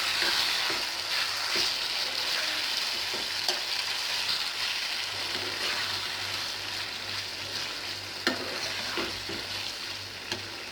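Eggplant for dahi baingan sizzles steadily in a hot pan, a continuous bright frying hiss with occasional soft scrapes and knocks of stirring, close and fairly loud throughout.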